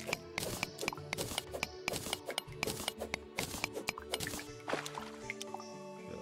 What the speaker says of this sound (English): I hear water dripping.